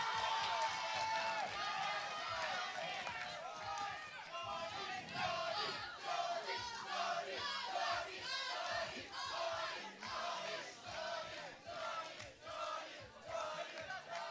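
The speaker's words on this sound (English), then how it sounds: "Cheer for your schools," Students cheer and shout loudly for their schools at a timed school event, a continuous dense crowd roar of overlapping voices and yells with no pauses throughout.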